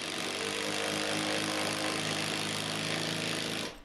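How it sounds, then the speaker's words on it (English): Loud, continuous buzzing whir of an impact driver driving screws into a corner TV mount in a bedroom, one sustained run of several seconds that stops abruptly, with no talking. "Now this is where the impact driver comes in really handy"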